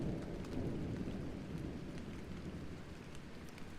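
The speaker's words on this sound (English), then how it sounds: "A gentle patter becomes a steady rhythm, then swells into a heavy downpour." Heavy rain pours down in a steady, dense roar that holds at an even level from start to finish, with no voices and no distinct thunderclap.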